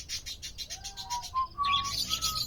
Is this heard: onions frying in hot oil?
no